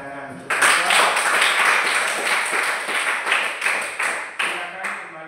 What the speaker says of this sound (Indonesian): mari kita berikan tepuk tangan untuk Bapak